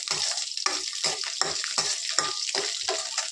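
Green chillies sizzle and crackle in hot oil in a pan while being stirred, the frying rising in repeated bursts with each scrape of the spoon, close and steady throughout.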